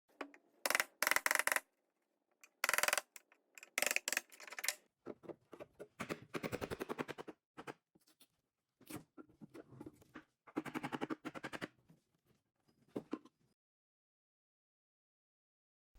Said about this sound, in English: I hammered the backing off